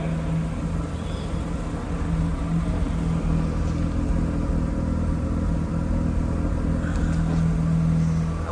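A 1997 Mazda RX-7 FD RS-R rotary engine warming up, a steady low idle rumble holding even and close without revving.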